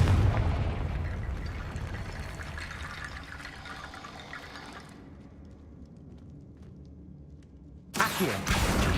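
A Confringo fire spell explodes in Hogwarts Legacy: a loud, roaring, rumbling blast fades over several seconds into a low tail, followed by a second sharp burst near the end.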